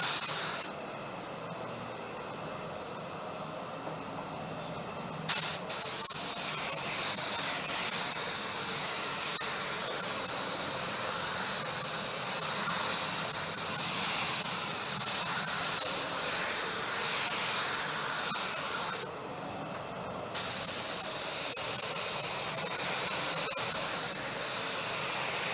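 A spray gun applies Glasurit 90 line lacquer in long, steady hissing passes, with a brief break partway through and a second short pause later, heard close and continuous without talk.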